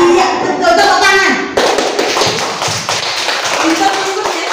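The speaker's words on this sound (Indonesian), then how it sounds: "iya, betul, tepuk tangan." A class of pupils claps hands together, a busy patter of many quick claps. A voice can be heard briefly at the start, and the clapping grows louder and fuller midway.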